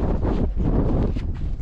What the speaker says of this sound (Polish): Strasznie wieje, muszę się za wiatrem chować